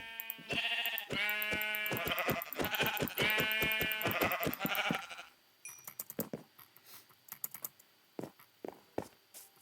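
Sheep in the video game Minecraft bleat in a rapid run of loud, repeated calls, followed by scattered clicks and taps of a computer keyboard as the bleating stops.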